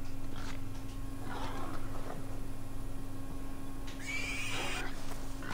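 A horse in the Assassin's Creed Valhalla video game gives a short, high whinny near the end, preceded by a few faint scuffs over a steady low game hum.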